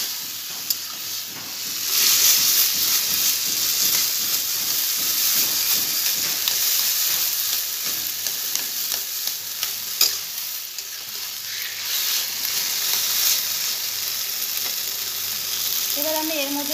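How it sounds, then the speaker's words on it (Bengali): Taro leaves frying with spices in a pan, with a loud continuous sizzle and hiss as a spatula stirs and scrapes them in a steady rhythm throughout. "ভালো করে মিশিয়ে নেব মশলার সাথে কচু শাকটা।"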